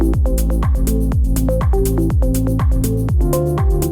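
Loud drum loop from a song being produced, with a punchy, aggressive clap sample hitting repeatedly over a steady kick pattern and melodic layers, roughly eight hits across a few seconds, no talking.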